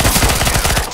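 Rapid gunfire in a Counter-Strike-style video game, a loud, close burst of about ten evenly spaced shots fired in quick succession over one second.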